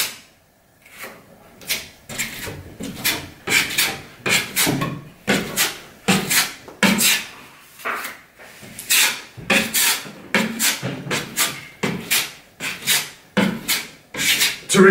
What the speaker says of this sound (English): apply the product on there, and then I'll use the bigger knife and we'll level everything out